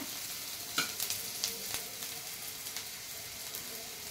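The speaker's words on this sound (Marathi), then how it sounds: "कांदा परतत आलाय" Chopped onion sautés in a pan for Maggi noodles, giving a constant close frying sizzle broken by several light scraping stir strokes, with no voices.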